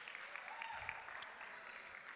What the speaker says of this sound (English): Round of applause for Jite,